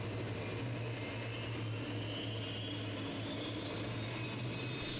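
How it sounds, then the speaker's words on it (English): Boeing 747-400F cargo jet at the gate during departure pushback, a steady low engine drone and hum with a faint rising whine, continuous and unvaried, no voices. "The Boeing 747-400F begins its departure sequence with a powerful pushback from the gate"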